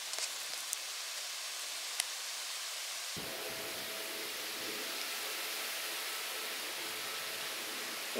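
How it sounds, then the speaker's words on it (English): Steady broadband rush of wind moving through trees, constant and moderately loud with a slight change partway through, no voices. "Wind in the trees."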